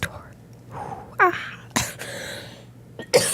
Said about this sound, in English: it's hard to do that when you're coughing so much